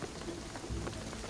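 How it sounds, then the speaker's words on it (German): Steady rain falling in the action-adventure game Shadow of the Tomb Raider, a continuous dense wash of drops hitting surfaces, with a low rumble swelling briefly midway. "der Regen wird alles überfluten"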